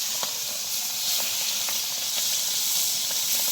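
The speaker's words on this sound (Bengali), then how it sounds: "পাঙ্গাস মাছটাই রান্না করতেছি" Pangas fish frying in a hot pan gives a loud, continuous sizzle and steamy hiss, with faint clicks and pops scattered through it.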